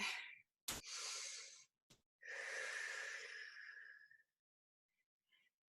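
Deep breaths during a flexibility fitness class. Two long, airy breaths are drawn in and let out close to the microphone, split by a short sharp sniff, then quiet with faint rustles.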